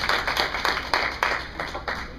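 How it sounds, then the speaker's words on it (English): Applause from an audience at a live improv-style show, a handful of claps landing in a loose, uneven rhythm, close and moderately loud. "Round of applause for Kevin for making some awesome sound effects"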